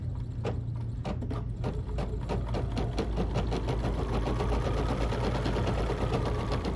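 A Bernina 5 Series embroidery machine stitches in a rapid, even mechanical rhythm, starting with a few slower stitches before settling into a steady close-up run, with no talking.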